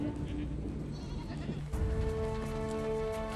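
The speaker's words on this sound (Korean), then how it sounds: "마지막으로 양과 염소 같은 작은 동물들이 따릅니다." Sheep and goats bleat as a nomadic Mongolian herd treks through snowy Siberian backcountry toward winter pasture, sustained calls rising over a steady windy, rumbling background.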